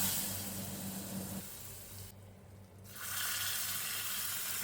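Fried onion tempering is poured into a dry prawn and raw mango curry, a steady hissing sizzle that briefly dips quiet, then surges back louder and continues to the end with no voices.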